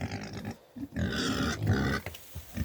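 A Vietnamese pot-bellied pig grunts close by in several short, rough bursts, with brief pauses between snorting grunts.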